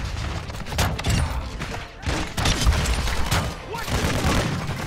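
Bryson 800 shotguns fire in Modern Warfare 2 on the cramped Shipment map, close booming blasts in quick uneven clusters over a dense wash of other gunfire and explosions, with brief lulls between flurries.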